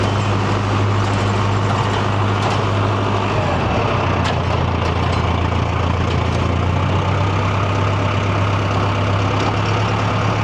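A Mahindra Novo 605 DI tractor engine runs at a steady 1500 RPM, a loud, continuous low diesel drone with no pauses or speech, close by throughout.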